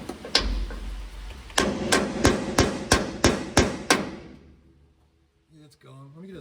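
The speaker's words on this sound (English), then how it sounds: "See if I can tap that in." Hammer blows tapping a part into place on a 1970 GMC truck: one early strike, then a steady run of about seven sharp, ringing metallic hits close up, fading to quiet with a brief voice at the end.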